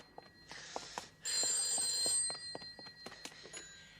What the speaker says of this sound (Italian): E vada al telefono, non senti gli squilli